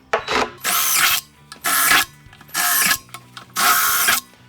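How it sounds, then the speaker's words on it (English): A power drill whines in four bursts of roughly half a second to a second each, drilling holes in a barrel, loud and close, with brief pauses between them. "I'm gonna drill these holes so they actually go out."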